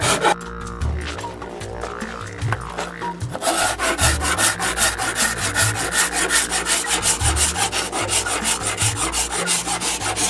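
A rasp built from hacksaw blades files a wooden boomerang blank in steady, loud back-and-forth strokes, with a few scattered knocks at the start before the rhythmic rasping settles in.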